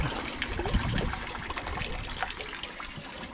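Water flushing through a Yamaha F/FL 200 outboard engine on a boat makes a steady close splashing and trickling rush, continuous and fairly loud with no talk.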